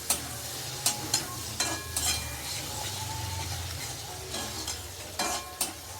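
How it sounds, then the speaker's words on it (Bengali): Potatoes frying with salt and turmeric in a pan for a Bengali pabda fish curry, a steady low sizzle broken by several sharp clinks and scrapes of a stirring spoon against the pan. "নুন হলুদ দিয়ে আলুটাকে ভাজা ভাজা করছি।"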